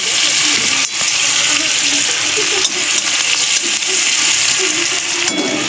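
Crushed garlic and dried chili frying in oil for diced pumpkin, a loud, even close-up sizzle with occasional stirring clicks and faint murmuring underneath.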